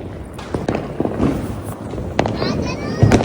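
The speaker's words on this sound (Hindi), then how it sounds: "अब छत से भी आ गए, पटाखे चला गए" Diwali firecrackers burst in a handful of sharp, separate cracks and pops, some near and some farther off, over a noisy background of people talking.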